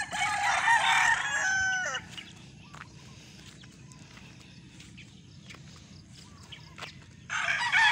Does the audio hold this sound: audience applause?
no